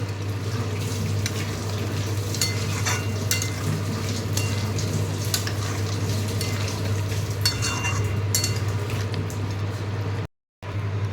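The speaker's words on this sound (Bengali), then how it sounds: "হলুদ, আর কাশ্মীরি লঙ্কার গুঁড়ো একটু রং হওয়ার জন্য দিলাম। দিয়ে এখন থেকে বেশ কিছুক্ষণ কষাবো।" A turmeric and Kashmiri chili spice paste sautés in a pan, a steady, close bubbling sizzle over a low constant hum, with a few faint scrapes and a brief dropout near the end.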